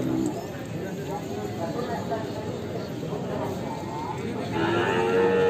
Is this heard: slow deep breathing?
no